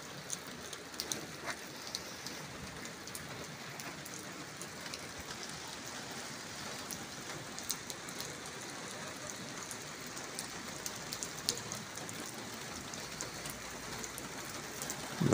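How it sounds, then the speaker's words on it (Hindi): Steady rain pours down continuously in Haripur, Pakistan, a dense hiss of drops spattering on surfaces with no voices, holding the same intensity throughout. "बारिश का सिलसिला शुरू हो गया।"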